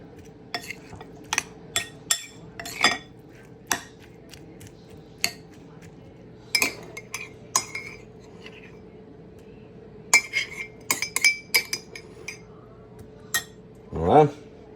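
Avocado stirred with a utensil in a bowl, giving a run of sharp scraping clicks and taps against the bowl, close and fairly loud, in irregular bursts with pauses and a louder knock at the end.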